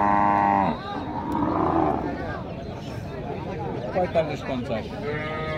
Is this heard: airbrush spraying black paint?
no